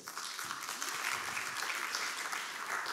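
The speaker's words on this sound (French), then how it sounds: "Merci beaucoup, vous pouvez l'applaudir." Warm, steady applause from a conference audience on youth entrepreneurship and food challenges, welcoming a panel speaker; even clapping fills the whole stretch at a fairly low level.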